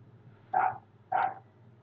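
A dog barks twice outdoors, about half a second apart, each bark loud and fairly close over a low steady background hum.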